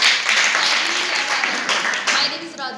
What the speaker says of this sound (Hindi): ताली बजाओ उसके नाम की।